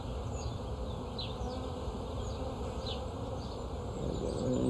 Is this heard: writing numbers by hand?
no